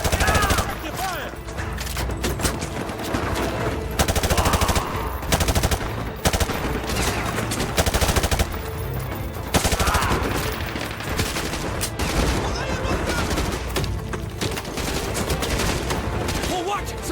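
Machine gun fire from a military shooter game, MW2 Remastered, rattling in dense, sustained bursts with shots and booms layered throughout, loud and close, with faint radio-style voices beneath.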